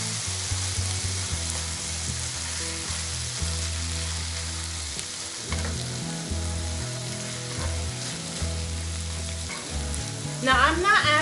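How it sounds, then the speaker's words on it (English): Kimchi and pork stir-fry in a hot pan, sizzling continuously and close up, with steady frying crackle and occasional scraping and stirring clatter from a utensil. "And now put in our kimchi. And stir it a little bit."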